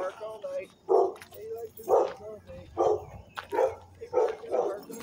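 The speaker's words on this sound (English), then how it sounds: "There's the crazy dog." A backyard dog barks about six times in a loose, repeated rhythm, fairly close and loud, with whimpering yips between barks and people talking faintly in the background.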